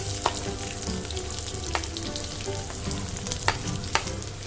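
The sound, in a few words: onions frying in a pan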